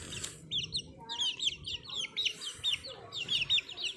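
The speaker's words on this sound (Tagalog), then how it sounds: "Yung manok. Balikin natin manok." Chickens on a small farm cluck and chirp in a run of short, bright calls close by, with quieter background noise and occasional low voice sounds beneath.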